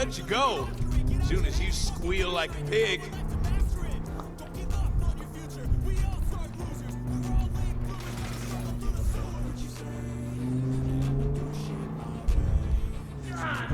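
Car engine in Saints Row, humming and revving as the car drives and turns, with steady tonal drone and occasional bumps, under someone speaking Ukrainian almost throughout.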